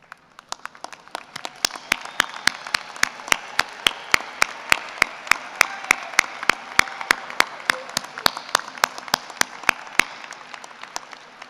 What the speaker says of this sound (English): give a round of applause to your loved ones